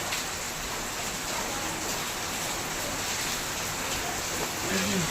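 Rain falling steadily in a heavy monsoon shower, a constant dense hiss of drops that stays even and fairly loud throughout, with nothing else standing out.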